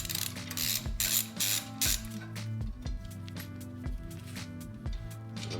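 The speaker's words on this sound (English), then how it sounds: "So we take off the 22mm nuts." Wrench work on 22mm nuts of a hydraulic log splitter ram, with repeated ratcheting clicks and metallic clinks at close range, alone with no voices.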